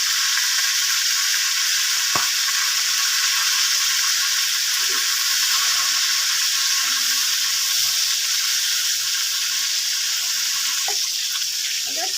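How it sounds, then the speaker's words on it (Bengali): Fish head frying in hot oil gives a loud, continuous sizzle that holds steady for the whole stretch, with a few faint clicks and clatters near the start and end. "মাছের মাথা ভাজা হয়ে গেছে এবার একটু তুলে নেব"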